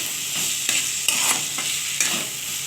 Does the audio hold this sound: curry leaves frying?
yes